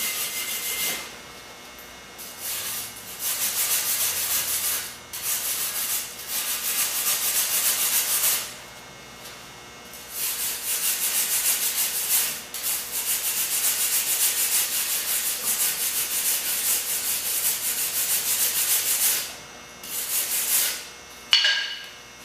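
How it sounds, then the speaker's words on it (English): A wire brush scrubs over a fresh weld joining two pieces of metal made with jumper cables and batteries, giving a loud, steady, harsh rasping scrub in long bursts with brief pauses, heard alone. "And we'll go ahead and use a brush to clean this stuff up."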